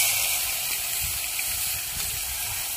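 Bitter gourd coated in turmeric and salt frying in hot oil, a loud continuous sizzle and hiss with crackling spatter that stays even throughout.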